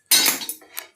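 A metal dosa griddle is set down on a kitchen stove: one sharp, close clank followed by a couple of lighter metallic knocks within a second, with no voices.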